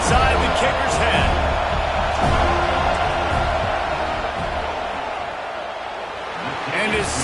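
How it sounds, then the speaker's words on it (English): A stadium crowd at a football game roars in a continuous, loud wash of noise during a field goal attempt, with a commentator's voice talking over it. "This crowd trying to do its part to get inside the kicker's head."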